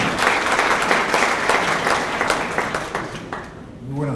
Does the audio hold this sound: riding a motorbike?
no